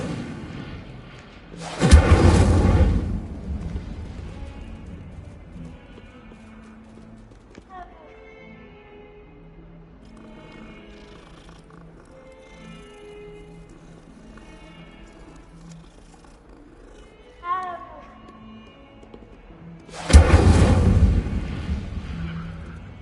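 An Incendio fire spell cast in Hogwarts Legacy gives two loud, roaring whooshing bursts of flame, one near the start and one near the end, each lasting about a second. Quieter game sounds and speech fill the stretch between them.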